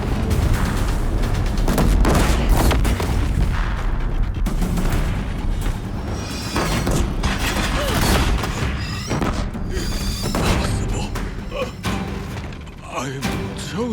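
Deathbringer machines fire on a bridge in the video game Horizon Zero Dawn, producing dense, continuous booming blasts and rumbling impacts layered with game music and sound effects.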